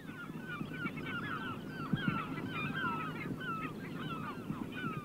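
Gulls calling over the Wadden Sea, a dense chorus of overlapping cries and squawks at moderate distance, continuing steadily with a low rumble of wind and water beneath.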